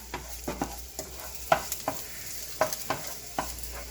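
Garlic sautés in olive oil in a pan for pork menudo, crackling and sizzling up close with a dozen or so sharp spitting pops and stirring scrapes over a steady low fry, no voices.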